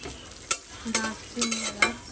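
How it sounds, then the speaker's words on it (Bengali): Onions and chili frying in a pan, with close sizzling and several sharp stirring scrapes and clinks at irregular intervals. "দুপুরে রান্না এটা শুরু করলাম আজকে পেঁয়াজ"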